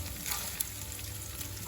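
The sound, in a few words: bacon frying in a pan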